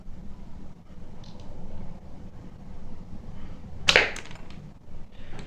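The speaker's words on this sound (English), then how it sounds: "as you can hear from the sound of the bullet hitting the wall" A homemade B-daman toy fires a marble that strikes a wall with one sharp, loud crack about two-thirds through, set against a low steady background rumble with faint smaller ticks.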